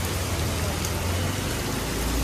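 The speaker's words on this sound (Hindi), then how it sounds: "बारिश देख रहे हो इतनी आ गई कि पानी वानी भर गया" Heavy rain pouring steadily outdoors, a dense, even hiss of drops on surfaces close by, constant throughout with no pauses.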